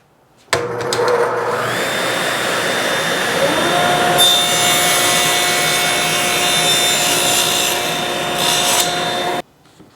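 Power sander working a wooden record stand piece, a loud steady whine and rasp running continuously with tone shifts as pressure changes, stopping abruptly at the end.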